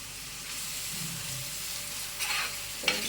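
Fish frying in a pan for a Telugu jella fish curry, giving a steady, close sizzle with stirring scrapes and a couple of louder bursts of spatter near the end.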